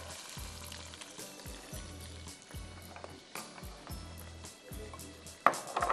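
Pasanday meat fries in a pan with bhunawa masala, red onion and dry seasoning, a steady sizzle broken by regular scraping stirs, with a sharp clatter near the end.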